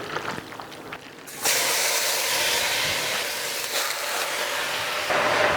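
A loud, sudden burst of hissing sizzle as meat hits a hot cast-iron pot, continuing steadily and filling the space after a quieter start.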